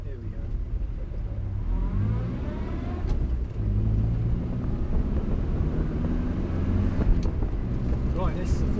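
A Morris Minor car engine drones steadily while driving, rising slightly in pitch as it pulls away, with a person talking over it.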